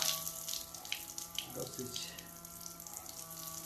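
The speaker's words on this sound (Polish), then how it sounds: "Odkręcamy kran. I leci woda." Water runs steadily from a kitchen sink tap in a Niewiadów N126 caravan, fed by a small water pump, a continuous close splashing hiss, with a brief spoken word over it.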